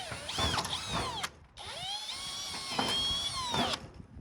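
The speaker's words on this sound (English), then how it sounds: "We're gonna pre-drill these holes." A power drill whines close by in two bursts, its pitch shifting as it pre-drills holes into metal roofing, with a brief pause between runs.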